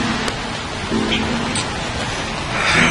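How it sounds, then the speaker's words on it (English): Rain falls steadily while someone walks around outdoors, a continuous close hiss of drops with a few brief louder spatters and a swell near the end. "me literally walking around in the rain"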